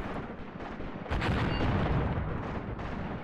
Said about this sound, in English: Take artillery fire.